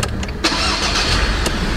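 A new pickup truck's engine cranks and catches, settling into a steady, fairly loud running hum close by, with a brief sharp burst near the start and another near the end.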